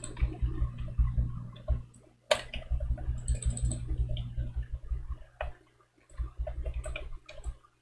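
Keys are clicked rapidly and repeatedly while playing a Bard in Final Fantasy XIV, a dense patter of close, light taps in bursts with brief gaps between them.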